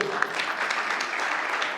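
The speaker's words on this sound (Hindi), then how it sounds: "तालियां हो जाए एक बार फिर से।" An audience claps steadily through the whole stretch at a Hindi public ceremony, a dense, even patter of many hands heard from a moderate distance with no voices over it.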